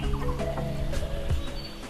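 Chickens cluck softly in a close, steady murmur on a farm garden, a few short clucks and low calls standing out from the flock.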